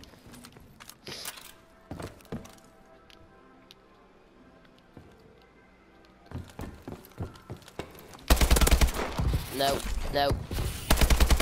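Gunfire in an online shooter video game: sporadic single shots and short bursts at first, then a loud, dense stretch of rapid automatic fire toward the end, with a player talking over it.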